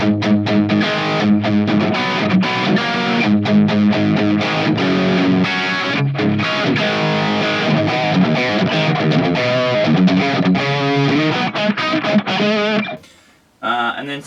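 Raw distorted electric guitar rhythm tone with no delay or reverb, played as dense chugging chords and riffs, loud and close throughout, stopping abruptly near the end.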